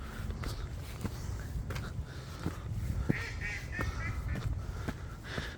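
A duck quacks in short nasal bursts, a few times, fairly close by a walkway at a mill dam, over steady outdoor background noise.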